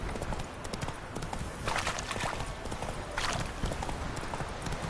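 In The Witcher 3, the horse Roach trots along with steady, rhythmic hoof clip-clops over a constant background wash, at moderate volume with no talk.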